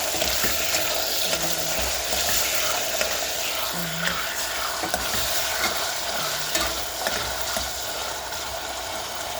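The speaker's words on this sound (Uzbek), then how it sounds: "Go'sht solamiz, qovuramiz." Continuous loud sizzling of meat frying in a pan, with repeated scraping and stirring strokes of a utensil and no talking.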